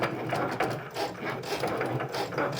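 A Cricut cutting machine slices everyday iron-on vinyl on its mat at increased pressure, giving a steady, close mechanical whir with a fine ratcheting buzz that runs continuously without pause.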